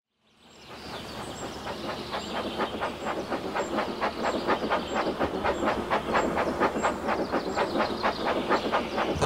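Steam train departing in the video game Hell Let Loose, hissing steam over a rapid, steadily building chuff and clickety-clack rhythm that grows louder and denser as it pulls away, with no voices.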